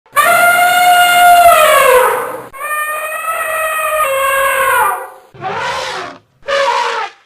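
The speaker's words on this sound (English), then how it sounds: "elephant," An elephant trumpets loudly and close, a long brassy blast that bends downward, followed by a second sustained call and two short rough bursts at the end.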